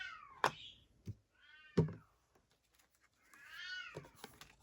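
A house cat meows repeatedly indoors near a fireplace during a home DIY project: three drawn-out, rising-and-falling meows close by, the last one longest, with a couple of soft thunks in between and no talking.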